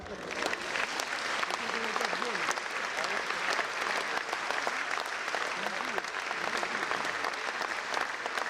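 A concert audience claps loudly and steadily, welcoming a performer at a jubilee concert in Maikop, dense applause filling the whole stretch without letting up.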